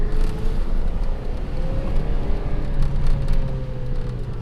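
A 9-inch lifted OBS Ford pickup truck drives along in first gear, its engine drone and tire rumble loud and continuous with wind noise over it.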